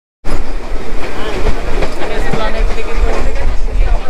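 A local train ride from Dum Dum to Barrackpore fills the space with loud, close rumbling, rattling carriages and wheel clatter that start abruptly and continue steadily, with voices faintly mixed in.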